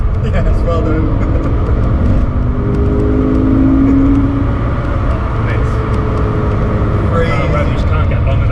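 BMW M5 with a V10 engine revving hard inside a tunnel, a loud sustained engine roar with rising pitch that echoes off the walls, while people talk over it.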